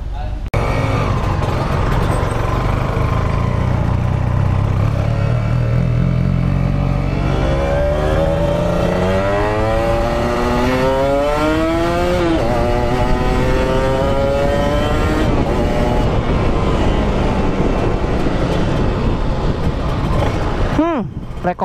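A Kawasaki Ninja 150 RR motorcycle with a KTC 4-piston front caliper accelerates on a test ride, its engine rising through several revving sweeps, loud and close, under steady wind roar.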